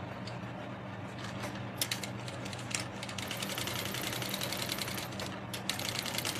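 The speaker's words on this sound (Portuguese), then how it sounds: "Agora a gente sim vai costurar." A sewing machine stitches the sides of a small pocket on a waist bag, giving a steady, fairly faint mechanical whir with a rapid repeating needle rhythm that runs without pause.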